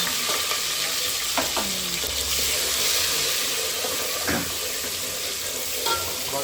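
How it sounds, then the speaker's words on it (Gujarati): Dal tempering (vaghar) sizzles loudly in a pan as a dense, continuous crackle, with a few brief clinks and stirring sounds; no voices. "વઘાર થાય છે."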